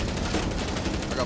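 Rapid gunfire crackles continuously in a video game shooter, dense and loud throughout a brief burst.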